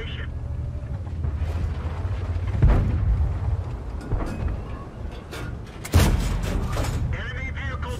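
Heavy tank cannon blasts and explosions as an enemy vehicle is destroyed in World of Tanks, two loud booming impacts over a rumbling engine bed with talk in between.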